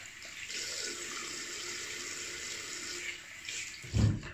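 Water running from a tap into a sink while the face is rinsed after shaving, a steady hiss of flowing water with brief splashes and a louder low thump near the end.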